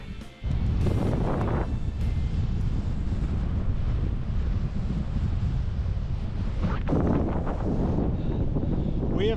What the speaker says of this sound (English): We have made it to the summit of Parkhouse Hill. Very windy up here.